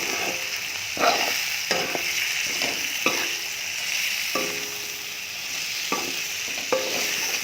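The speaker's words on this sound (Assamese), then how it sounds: "ফুলকবি 7 মিনিট সময় ভাজি ল'লোঁ" Cauliflower frying with salt and whole green chillies in a pan, a continuous sizzle broken by repeated scraping stirs of a spatula at roughly one-second intervals, close and fairly loud.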